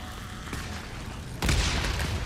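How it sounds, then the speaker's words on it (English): A grenade goes off in the video game Days Gone, a sudden loud boom that cuts into low rumbling and keeps roaring after the blast, close and heavy, with no speech. "Nice. Grenade."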